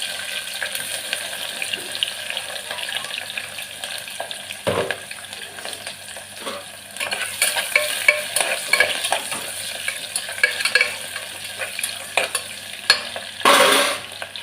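Chopped onions sizzle in hot oil with cinnamon, cloves and fennel seeds while a utensil stirs them, a steady fry with scraping spoon strokes and a few sharper knocks.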